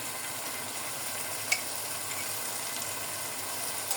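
Garlic paste sizzling in a pan of frying tomato, onion and green chilli for a mixed vegetable dish, a steady dense hiss throughout with one faint click.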